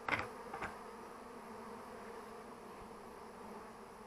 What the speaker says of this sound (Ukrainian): Отакий рій.